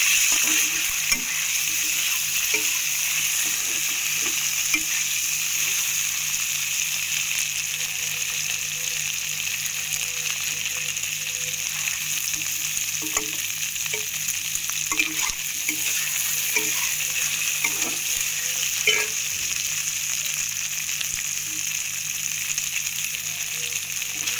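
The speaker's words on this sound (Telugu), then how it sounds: "ఇప్పుడు కలిపేస్తున్నాము సరే కదా" Taro root pieces fry in a pan for chamadumpa pulusu while a spoon stirs them, giving a continuous hissing sizzle broken by soft scraping and clinking strokes, close and steady with no talking.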